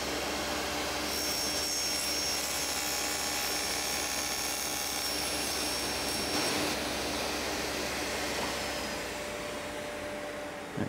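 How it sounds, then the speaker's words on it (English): A power saw cuts a bevel along a cabinet door edge, giving a loud, steady high whine that holds for about ten seconds with a slight pitch shift midway before tailing off. "I'm going to reverse this, cut the underside with this same bevel"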